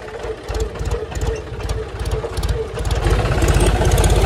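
A John Deere 5050 tractor engine revs under load while hauling a sugarcane trolley up a slope, a steady low mechanical drone that swells louder toward the end, with rapid rhythmic chugging throughout.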